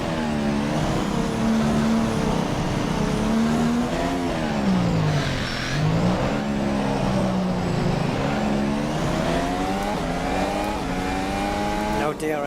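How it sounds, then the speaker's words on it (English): A race car engine in rFactor 2 revs continuously through a long outlap pull, loud and close, its pitch rising and dipping with gear changes and a brief drop near the end, without a break. "So for the outlap, I'm just going to let it rev all the way to the end."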